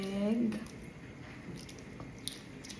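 Someone eating a hard-boiled egg makes soft, wet chewing and squishing sounds close to the mic while a voice speaks briefly at the start.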